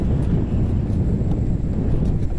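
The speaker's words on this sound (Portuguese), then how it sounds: "O vento tá jogando pra dentro, ó." Wind blows steadily into an open fishing boat, a continuous low rushing roar with microphone buffeting throughout and no voices.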